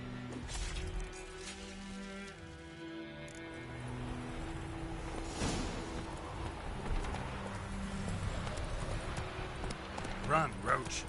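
Galloping hooves of Geralt's horse Roach in the video game Witcher 3, a fast steady clip-clop running throughout, mixed with game music and ambience and some talk.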